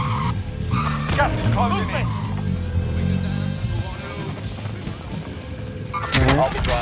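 A vehicle driven in the video game Call of Duty: Modern Warfare rumbles and skids with tire noise, under steady overlapping talk from several players.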